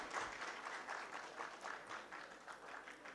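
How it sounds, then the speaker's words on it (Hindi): An indoor audience at a mobile phone manufacturing event in Pakistan claps in a brief, even round of applause. It is moderately distant, fairly faint and has no speech over it. "प्लीज़ ईडीपी के लिए एक ज़ोरदार तालियां होनी चाहिए।"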